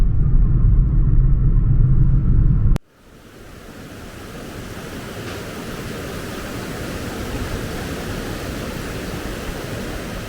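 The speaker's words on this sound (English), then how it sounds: "So we're at the Bekhal Waterfalls, about 10k away from Rawanduz." The Bekhal Waterfalls near Rawanduz in the Kurdish mountains pour as a steady, broad roar of rushing water. The roar follows a brief low rumble and sharp cut, then holds loud and even throughout.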